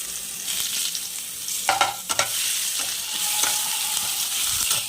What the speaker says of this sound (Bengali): তো এটা আমি তেলে দিয়ে দেব, হালকা নাড়িয়ে তারপর আমি এর মধ্যে দিয়ে দেবো রসুন